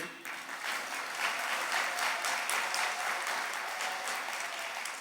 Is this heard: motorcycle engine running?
no